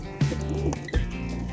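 Country pigeons in a home loft coo close by in low, throaty, rolling calls, with a few brighter bird chirps mixed in.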